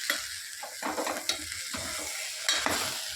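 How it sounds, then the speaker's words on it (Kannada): Whole spices frying in hot oil for vegetable pulao give a steady crackling sizzle, broken by a few stirring scrapes and sharp pops, close and moderately loud with no voices. "ಇವಾಗ ನೋಡ್ತಾ ಇರ್ಬೋದು ಫ್ರೈ ಆಗ್ತಿದೆ"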